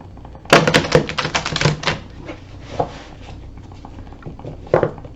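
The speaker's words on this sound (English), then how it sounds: "This one's going to be significantly harder to shuffle because it's big" An oversized deck of cards is shuffled by hand, producing a dense, close flurry of slapping and riffling card sounds early on, then a few scattered taps and a final short burst.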